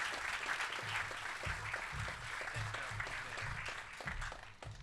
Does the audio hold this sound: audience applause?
yes